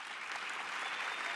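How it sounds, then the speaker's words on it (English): Brief, faint audience applause at an award event, a steady wash of many hands clapping at some distance. "Once more, a big round of applause, everyone, for Eva from Sorda."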